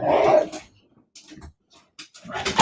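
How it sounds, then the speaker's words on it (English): A Malamute and a pup excited about treats, giving a loud bark or whine at the start, then scattered short yelps and snuffling sounds, ending with another burst of vocal excitement nearby. "My dogs."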